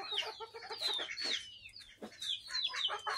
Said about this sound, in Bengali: দেখুন কত সুন্দর খাচ্ছে ব্রয়লারটি। ঘুরে বেড়াচ্ছে, এতো পালিয়ে যাচ্ছে।